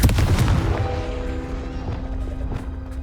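The Confringo fire spell blasts in Hogwarts Legacy, a sharp, heavy explosive burst at the start that decays into a rumbling tail with a sustained magical tone.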